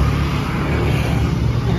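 A car passes on a road at night, a steady loud engine and tyre rumble that fills the short moment with no clear rise or fade.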